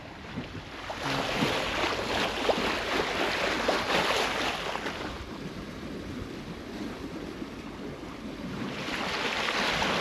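Water rushes and splashes steadily along the hull of a Hallberg-Rassy 44 sailboat under sail at about 5 knots with the motor off, with a soft wind blowing underneath, continuous and fairly close.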